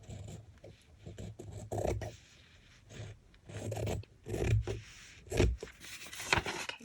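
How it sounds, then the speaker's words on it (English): Scissors trimming excess fabric and paper edges flush for home fabric printing, heard as a run of close, quiet rasping snips and scrapes in uneven bursts with no talking. "Now we need to cut off the excess."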